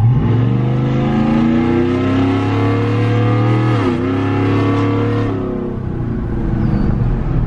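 Loud, deep exhaust from a modded 6.2L V8 truck with diverters open rumbles steadily nearby, with a brief throttle dip and rise midway before settling back into a heavy, throaty drone.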